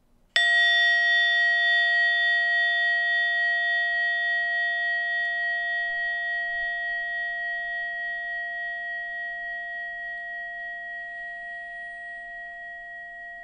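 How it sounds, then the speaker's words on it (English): A single bell or chime strikes once, loud and clear, then rings on alone with a steady tone that slowly fades over more than ten seconds. "in a moment, you'll hear a bell or a chime. Listen to it as it gets quieter and quieter."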